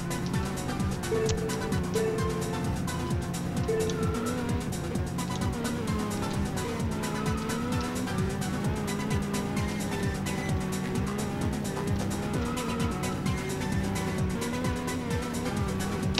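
Race cars in a racing video game, a continuous loud engine whine with shifting pitch and a dense roar that holds steady throughout, with no pauses.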